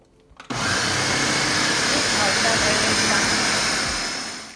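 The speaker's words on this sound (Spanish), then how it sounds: "vamos a licuar" A blender starts suddenly and runs at a loud, steady whir while mixing a strawberry cheesecake filling for a no-bake cake. The sound stays close and continuous, then eases slightly at the end.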